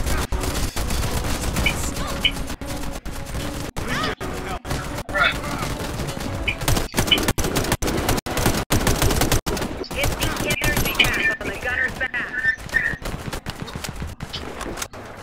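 Dense video game gunfire from the shooter Warface, with rapid automatic bursts and scattered shots firing almost continuously and loudly, with game voices faintly underneath.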